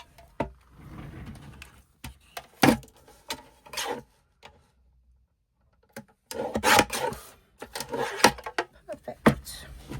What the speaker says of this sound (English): so I'm just going to trim a little bit of that off.